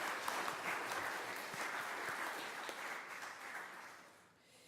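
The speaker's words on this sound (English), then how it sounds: "Yes, please clap." A crowd applauds steadily, a dense wash of clapping that holds for several seconds before thinning out near the end.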